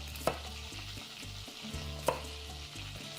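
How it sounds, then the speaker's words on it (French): Butter melting and sizzling in a pan while broccoli casserole and chicken meatloaf are prepared, a steady soft frying hiss with a low hum and a few sharp clinks of utensil on pan, no voices. "Puis le beurre qui fond tranquillement."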